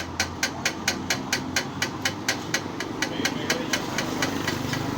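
A motorcycle engine runs on its own, idling close by with a steady, rapid ticking beat that continues through the clip over a low rumble.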